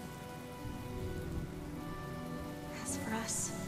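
Rain falls steadily in the video game Honkai Star Rail, a soft continuous patter under a low ambient music bed, with brief brighter chiming tones rising near the end.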